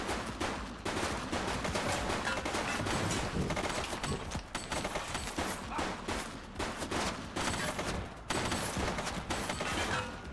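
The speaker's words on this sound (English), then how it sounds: "She's shooting!" Video game gunfire as a suspect shoots during a police-style engagement, dense bursts of rapid shots and automatic fire crackling continuously for several seconds, loud and busy with few gaps.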